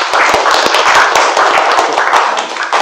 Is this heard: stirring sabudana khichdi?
no